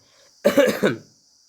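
A single harsh cough burst, close and loud, standing alone against near silence.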